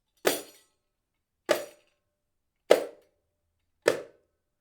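Four separate pa strokes on a riqq frame drum, struck at an even, unhurried pace with silence between them, each a sharp, bright hit with a jingly ring that quickly decays.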